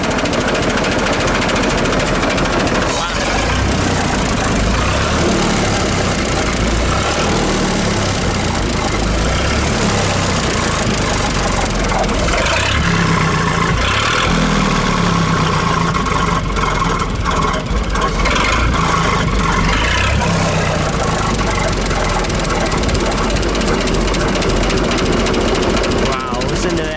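A 1907 Renault Type AI Vanderbilt Racer engine idling, a loud rough mechanical clatter running without pause, with voices talking over it.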